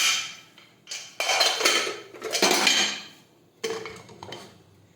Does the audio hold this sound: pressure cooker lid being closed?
yes